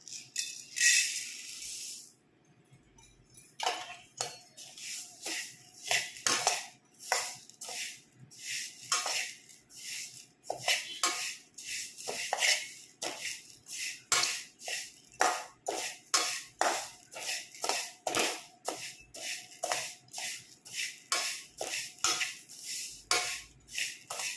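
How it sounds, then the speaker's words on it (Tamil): Urad dal is roasted in a kadai and stirred in quick, repeated strokes. The rhythmic dry rattling and scraping of grains against metal keeps up steadily, close and clear, with no talking. "உளுந்த போட்டு நல்லா வறுத்து எடுத்துக்கணும்."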